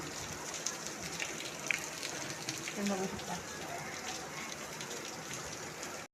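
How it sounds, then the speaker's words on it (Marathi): Light rain patters steadily in the background while a person speaks briefly over it. "नॉर्मल पाऊस पडतो हलक्या हलक्या"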